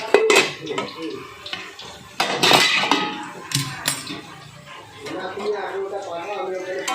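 Metal lid lifted off a cooking pot of potato greens cooked without spices, with clanking pot-and-lid knocks and clinks in short bursts, close and fairly loud, while someone talks throughout.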